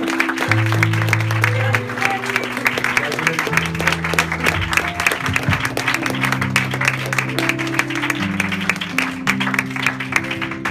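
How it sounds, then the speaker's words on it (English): A congregation at a marriage-proposal celebration claps steadily and continuously over sustained music with held tones, loud and busy throughout. "I want everybody to just clap your hands"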